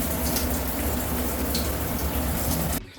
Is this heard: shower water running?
yes